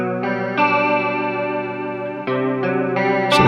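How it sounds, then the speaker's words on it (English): A guitar played through a Flashback Delay pedal set to the Chorus Vibe toneprint gives sustained chords a shimmering, warbling chorus, with a few fresh strums ringing out clearly and alone. "So we can get more of that chorus vibe mix, like a uni-vibe kind of thing, but without the phasing"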